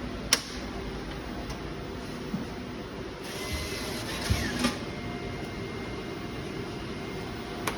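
An Aruze slot machine powering on and loading: a steady low electrical hum with a few sharp clicks and a brief burst of broadband whirring midway, all at low level with no talk.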